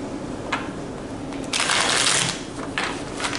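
Tarot cards being shuffled by hand, a few brisk riffling bursts of papery flutter, the loudest one in the middle, with quiet room noise between.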